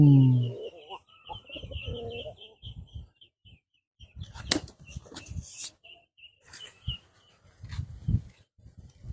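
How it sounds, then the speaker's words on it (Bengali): High, thin chirping of pigeon chicks repeats through the clip, with soft wing flutters and scattered low knocks and rustles nearby. "এটা ওয়াও, কি কবুতরের বাচ্চা"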